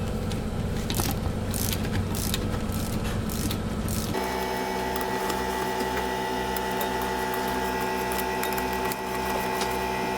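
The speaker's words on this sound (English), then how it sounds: "Now remove the 4 remaining 3/8 nuts." 3/8 nuts are taken off a valve during a full service: a close, rhythmic mechanical buzzing and scraping changes to a steadier droning pattern partway through, with no talking.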